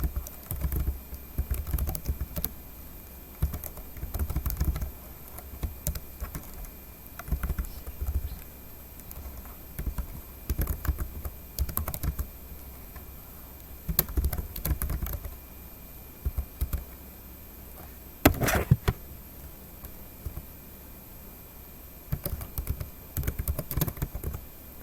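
Keystrokes on a computer keyboard while entering account numbers and expense entries into accounting software, in irregular bursts of clicks with brief pauses between runs, close and moderately loud.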